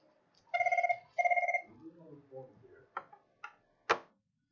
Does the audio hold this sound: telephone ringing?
yes